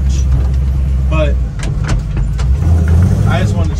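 A 1947 Hudson pickup truck, left abandoned for three years and dragging its brakes, rolls out of a shop with a loud, close engine rumble while people talk over it and a few clanks and rattles break through.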